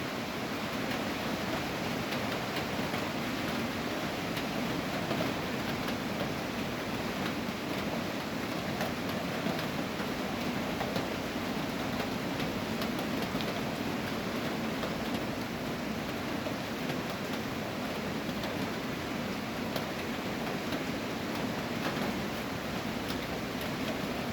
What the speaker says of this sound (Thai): ได้ยินเสียงฝนไหมคะ ฝนตกตลอดเลย